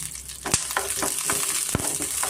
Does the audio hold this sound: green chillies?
yes